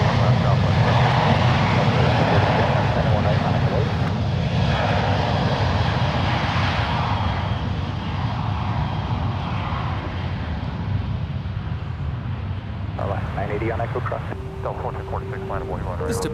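An 18-year-old Boeing 737-800 freighter on an Amazon Air flight, operated by Sun Country Airlines, takes off from runway 1 right at San Francisco International, its jet engine roar broad and steady throughout, with radio chatter briefly breaking in near the end.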